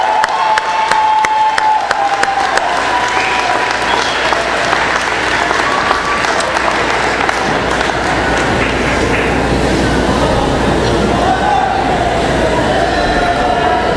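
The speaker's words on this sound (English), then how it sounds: "graduates, if you would give your friends and family and supporters a round of applause" Graduates at a college commencement ceremony give a long, loud round of applause in a large hall, a dense and sustained wash of clapping with some cheering mixed in.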